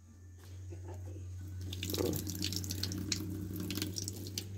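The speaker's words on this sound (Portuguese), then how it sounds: "Aqui a pia tem água." Water fed from a cistern runs and drips into a sink at a rural smallholding, a faint, continuous trickle with scattered splashy drops over a low steady hum.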